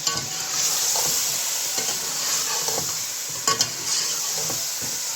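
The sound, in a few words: tomatoes added to a pan of frying mixed vegetables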